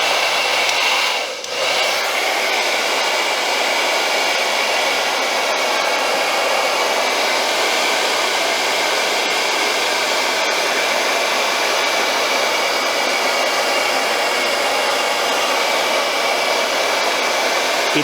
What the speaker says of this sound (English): it's going to stick onto the shoe way better if you first blow dry this onto it and heat it up a bit